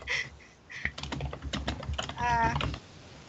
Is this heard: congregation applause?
no